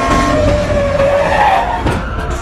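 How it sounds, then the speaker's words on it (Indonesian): Skidding vehicle noise from a film scene where a passing truck strikes a fleeing man: a loud, continuous screech of tyres with engine roar, steady throughout, ending in a brief harsh burst near the end. "akhirnya dia tertabrak oleh mobil truk yang melintas"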